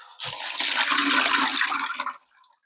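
Running water rinsing a rock tumbler drum and tumbled rocks, a loud close rushing splash for about two seconds that cuts off into quiet dripping.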